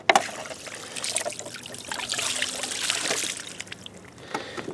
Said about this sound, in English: And you just want to rinse it off.